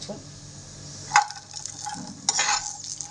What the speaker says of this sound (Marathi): आपण इकडं घेऊया ड्रायफ्रूट तळून ड्रायफ्रूट तळून घेऊया